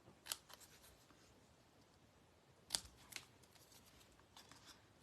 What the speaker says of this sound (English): now we're gonna cut our banner